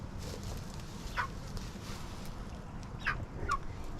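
Backyard chickens in a coop, faint clucks and short calls at a distance over a low steady background hum, with no one talking.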